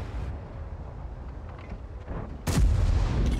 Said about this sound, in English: Oh, nice shot into the back of his head.